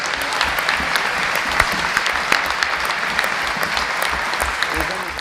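Sustained audience applause fills a chamber at a commemorative session of Argentina's Chamber of Deputies, a dense steady wash of many hands clapping, loud and continuous, with a few sharper claps standing out.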